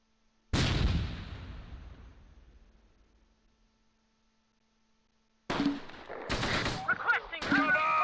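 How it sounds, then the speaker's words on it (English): Gunfire in the Close Combat World War II strategy game, set on the Fontenay-Caen road in Normandy: one loud blast decays into silence, then a rapid cluster of sharp shots and bursts follows, with voices mixed in. "They're shooting at us with a machine gun."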